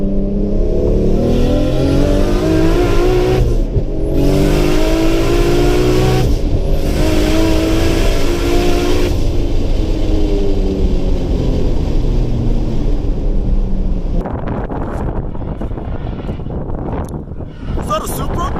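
A 700HP 2JZ-powered Toyota Supra accelerates hard in loud, close bursts, its engine note climbing through gear changes with brief cuts between pulls, before fading into quieter road noise near the end.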